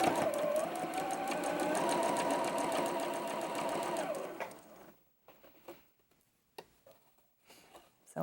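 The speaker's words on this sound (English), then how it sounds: "I'm sewing right off the end of that fabric." Sewing machine stitching a curved fabric arc while piecing a mini double wedding ring quilt block, a steady rapid close-up whir for about four seconds that stops, followed by quiet handling clicks.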